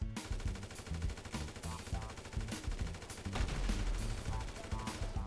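Rapid automatic gunfire in GTA V, bursts of loud shots crackling one after another over game music and effects, with a voice talking in between.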